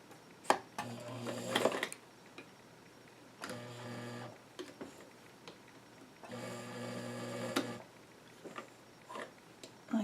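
A sewing machine stitches down one folded edge of a coin pocket on doll-sized jeans, running in three short bursts with quiet gaps and small clicks in between.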